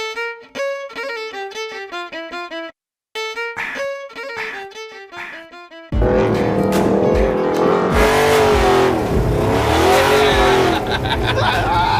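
A 1974 Chevy C10 muscle truck on bogger tires accelerates hard, its loud, dense engine roar cutting in abruptly halfway through after a stretch of tonal music and holding steady to the end.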